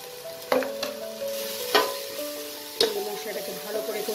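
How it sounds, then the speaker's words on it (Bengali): Turmeric, Kashmiri red chilli powder and salt fry in a pan as a masala, with a steady sizzle and a few sharp scrapes of a spoon stirring it, close and clear. "মশলাটাকে ভালো করে কষিয়ে নেব"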